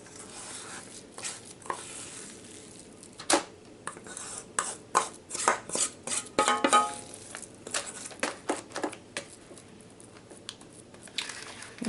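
A no-bake keto pecan cheesecake crust gets pressed into a pan, with soft scraping, tapping and clinking of a utensil against the pan in uneven bursts, fairly close but quiet.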